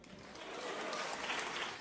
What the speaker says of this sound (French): Applaudissements nourris du côté des écologistes